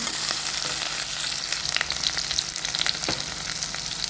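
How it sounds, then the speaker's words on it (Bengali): Garlic and ginger fry in a pan for soybean kosha, a dense, loud, continuous sizzle heard up close, with light scraping of a utensil as they are stirred. "তার উপর থেকে যে গার্লিক আর জিঞ্জারটা আছে সাবুজ এটা ঢেলে নেব এগুলোকে এক থেকে দু মিনিটের মতন এভাবে নাড়িয়ে নেবেন"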